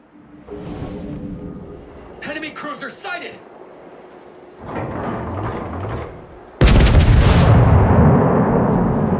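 Heavy naval guns boom in a video game, with bursts of loud, rumbling cannon fire and blasts, including a sustained roar near the end, as players talk over the shots.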